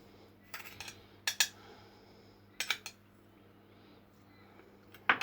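A utensil knocks and scrapes against a bowl as eggs, salt and sugar are mixed, giving several short, sharp clinks in irregular bursts with quiet pauses between them and no talking.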